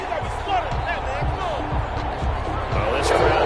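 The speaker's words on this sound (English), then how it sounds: "this crowd does not like that call" A stadium crowd in a Colts versus Chiefs football video game reacts loudly to a penalty call, a continuous dense roar of boos and shouts with a commentator's voice over it.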